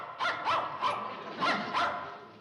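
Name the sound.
dog barking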